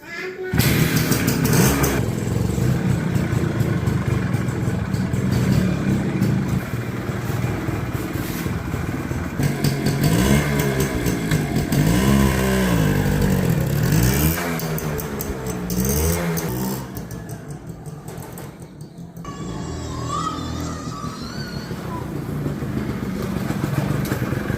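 A TVS-Suzuki Supra motorcycle engine starts up and runs loudly nearby, idling and revving with a steady rumble while voices talk over it.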